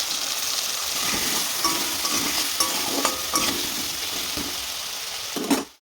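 Yam and potato pieces sizzling steadily in hot oil in a pan, with soft scraping strokes of a spatula stirring them, before the sound cuts off abruptly.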